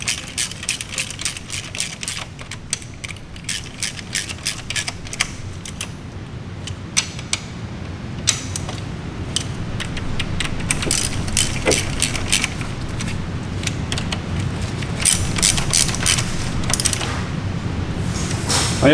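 Small nuts are tightened by hand on the baffle plates of a Nissan Skyline RB26 valve cover, giving steady light metallic clicks and ratchet-like creaks. The sound is close and fairly quiet, continues throughout, and has no talking.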